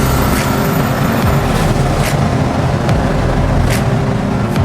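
A 550 hp turbocharged BMW E30 accelerating hard, a loud, dense, continuous engine roar heard from inside the car with faint sharp ticks and brief bursts over the drone.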